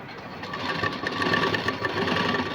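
A sewing machine runs steadily, stitching lace onto a puff sleeve, its quiet motor hum continuous and close for a couple of seconds.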